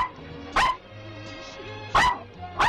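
A dog in a 1971 Romanian film barks three times in sharp, loud bursts spaced about a second and a half apart, with a low steady hum underneath between them.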